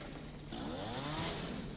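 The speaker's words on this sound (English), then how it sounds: "Can I keep this chainsaw?" A chainsaw revs in the Resident Evil 7 video game, a steady buzzing drone that swells louder partway through and holds, with no talking over it.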